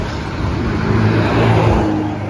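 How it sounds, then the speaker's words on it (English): An old Ferrari car engine hums and builds into a rising whir as it revs, steady and fairly loud, with no voices. "Ooh la la, nice old Ferrari."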